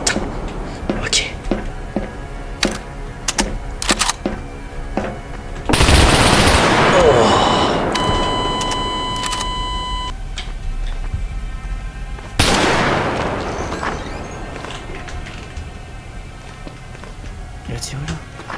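Gunfire in a video game, a sharp run of rapid shots at the start followed by two heavier bursts with ringing tails, over game sound and someone talking.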